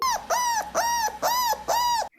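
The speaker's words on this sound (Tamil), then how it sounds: "என்ன எங்க நாய்க்குட்டி சத்தம் கேக்குற மாதிரியே இருக்கு" A puppy barks five times in a steady rhythm in an animated cartoon, each bark a high, sharp yelp, close and loud.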